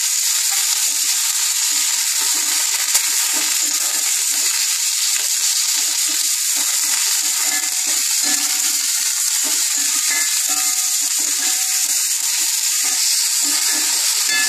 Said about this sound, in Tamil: இப்போ இதே எண்ணெயில் இந்த சௌசௌவை போட்டு நல்லா வதக்கிக்கலாம்.